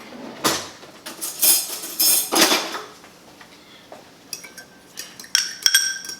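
A fork mixes grated Pecorino Romano in a bowl, producing several loud scraping clinks early on, then quieter, scattered taps and rattles of metal against the dish.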